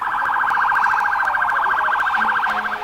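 Police and fire truck sirens from a procession through downtown Covington, a loud wailing warble rising and falling quickly and steadily, near and continuous, with no talk.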